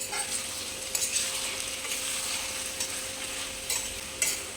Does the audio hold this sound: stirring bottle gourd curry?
yes